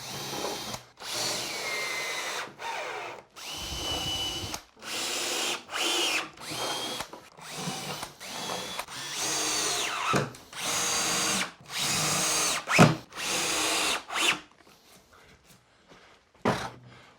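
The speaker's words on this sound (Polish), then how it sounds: "nawiercamy" A power drill boring holes while a wooden vanity table with a mirror is assembled, running in repeated loud whirring bursts of a second or two with short pauses between them, no voices.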